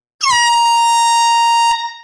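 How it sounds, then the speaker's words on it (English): A single loud, close air horn blast at a live record sale, one sustained blaring tone lasting about a second and a half before cutting off. "And thank you, Mike Massey, for sending me a new air horn."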